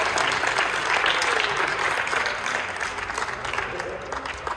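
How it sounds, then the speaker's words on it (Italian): An audience at a padel tournament award ceremony at Padel San Siro applauds steadily and loudly, with the clapping fading slightly toward the end and a crowd murmur underneath. "Un applauso per Jenny!"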